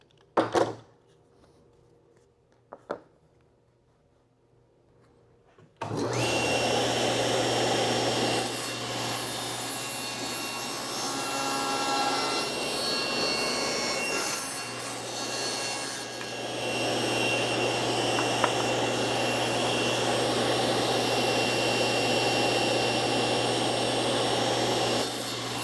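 Saw cutting the mitered wooden sides of a piano-style jewelry box, a loud steady whine that starts abruptly after a few seconds of near silence with a couple of small knocks, then runs continuously to the end.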